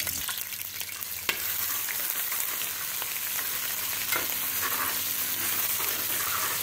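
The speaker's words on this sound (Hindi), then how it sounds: "डालने के बाद हम इसको 1 से 2 मिनट फ्राई करेंगे।" Steady sizzling of ginger garlic paste frying in hot ghee, a continuous crackling hiss with a few stirring clinks and scrapes, close by and fairly loud.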